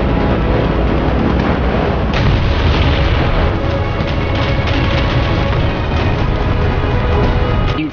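Bombs dropped from WW2 bombers explode in a combat video game, a dense, loud, continuous rumble of booms and blasts with no talking.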